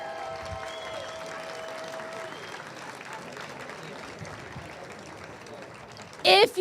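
Staff members clap throughout at a high school ribbon-cutting ceremony, steady crowd applause heard from a distance, with a voice cutting in near the end.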